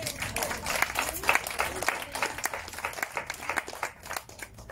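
A modest audience at a song concert applauds the singers, with scattered, uneven handclaps rising and falling at moderate volume and voices murmuring faintly underneath.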